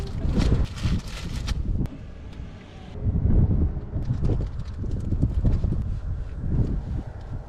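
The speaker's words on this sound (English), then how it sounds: "It's so windy." Strong gusty wind in Death Valley buffets the microphone, a heavy low rumble swelling and fading in uneven bursts throughout.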